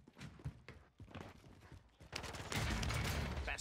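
Rapid gunfire bursts in the Call of Duty Warzone video game, scattered shots early then a dense, loud sustained volley of automatic fire near the end.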